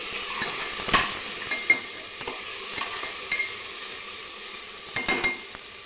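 Ginger garlic paste sautéing in a pan for masale bhat, with soft sizzling and scattered spoon scrapes and clinks against the pan, close and fairly quiet.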